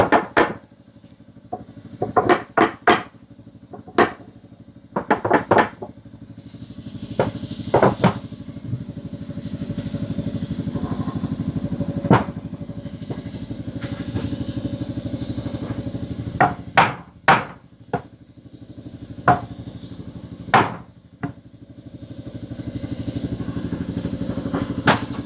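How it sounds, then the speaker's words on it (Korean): Hammer tapping panels of a subwoofer box for a ScanSpeak 26W 10-inch driver in a Honda Odyssey car audio build, with sharp irregular knocks in bursts over a steady background hum. "안 맞으면 이제 망치 가지고"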